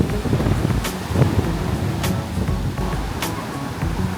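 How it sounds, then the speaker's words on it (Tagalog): Strong ocean waves surge and wash steadily along a beach in Davao City, a continuous loud roar mixed with wind buffeting the microphone. "Ang lakas ng alon."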